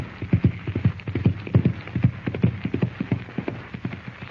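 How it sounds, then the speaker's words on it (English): Horse hoofbeats from a radio drama sound effect, a rider spurring his mount into the darkness, pound in a fast, steady galloping rhythm, close and loud with no talk over them. "Lashing the sharp rowels of his spurs into his horse's flanks, Chuck Connors rides into the darkness."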